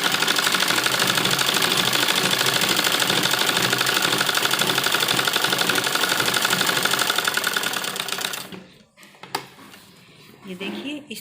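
A sewing machine stitches a dupatta in a steady, rapid mechanical chatter that runs continuously for several seconds, then stops, leaving a few clicks and handling noises.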